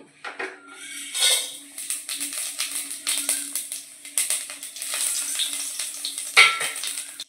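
Cumin, cinnamon and black pepper frying in a hot pan for a green peas masala curry, with steady sizzling and crackling and a utensil scraping and clinking against the pan, close and continuous.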